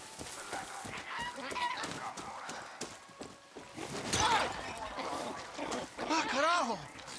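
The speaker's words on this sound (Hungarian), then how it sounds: "Még van zavarodva ez a kakas." A rooster in Far Cry 6 clucks and squawks in agitated bursts, close and fairly loud, mixed with game sound effects and overlapping speech.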